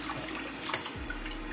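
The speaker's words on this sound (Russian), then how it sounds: "я ее сейчас залью водой, хорошо промою" Tap water runs steadily into a sink to rinse partly thawed, fairly large capelin fish, a continuous close splashing flow with no talk.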